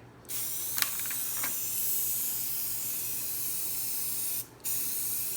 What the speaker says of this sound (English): for the beginner, I suggest doing it with a spray can